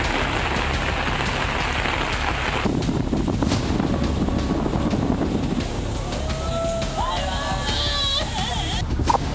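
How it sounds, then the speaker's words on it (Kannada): Heavy rain and gusting wind from Cyclone Montha in Bengaluru, Karnataka: a continuous hiss of rain on surfaces with wind buffeting the microphone, loud throughout, briefly shifting in character partway, with faint tonal sounds in the background. "ದೇಶದ ಹಲವು ಕಡೆ ಭಾರೀ ಮಳೆ, ಅವಾಂತರ."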